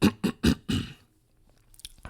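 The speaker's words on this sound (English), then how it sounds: "I had to clear my throat" Four quick, harsh throat-clearing bursts in a row, close and loud, followed by faint small noises.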